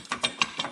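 A socket wrench ratchets on a bracket bolt of a Can Am DS90X, giving four quick, close metallic clicks in an even rhythm over well under a second.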